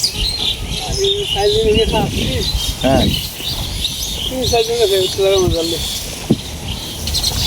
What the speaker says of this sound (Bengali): কত সুন্দর পাখির ডাক।